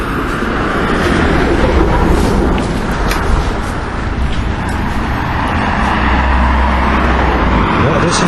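Busy street traffic makes a loud, continuous roadway rumble, with a dense low wash of passing vehicles throughout and no break or pause.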